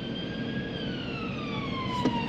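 An ambulance siren passes through road traffic, its steady wailing tones sliding gradually downward in pitch as it moves by, loud and continuous over the hum of cars, with no talking.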